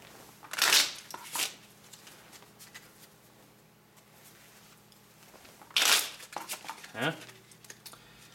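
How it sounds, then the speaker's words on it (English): Two bursts of riffling shuffles of a deck of Pandemic board game cards, one near the start and another later, with soft handling noises in between and no speech. "I'm going to shuffle these."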